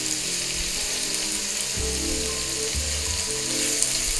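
Beef steak pieces browning in a skillet, a loud constant sizzle and hiss close by, with a low droning hum underneath and no voices.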